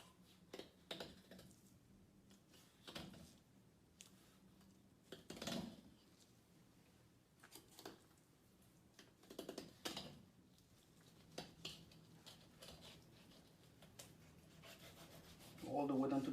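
A knife scraping meat off a halibut carcass, heard as intermittent rubbing and scraping strokes at irregular intervals, fairly quiet, with faint sounds of handling between strokes.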